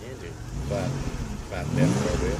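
A van engine with a blown head gasket idles with a low, rough, uneven rumble close by. People talk over it throughout.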